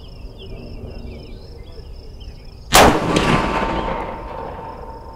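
A single loud .30-30 rifle shot cracks outdoors at a target range, followed by a decaying echo, with crickets chirping in the quiet background before it.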